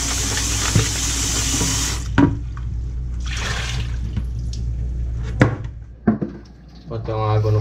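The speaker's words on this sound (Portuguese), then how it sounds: "Dá uma enxaguada no balde." Water splashes and runs into a plastic bucket being rinsed out after floor cleaning, with short sloshes and dumps standing out over a steady background, close and moderately loud.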